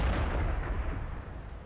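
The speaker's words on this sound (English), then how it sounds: "Yes, that is a 152mm cannon on the front of that tank." A 152mm cannon on a tier 8 light tank in World of Tanks fires one heavy, booming shot whose deep rumble decays over a second or so.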